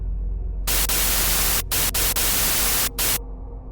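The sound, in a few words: harsh amplified radio static noise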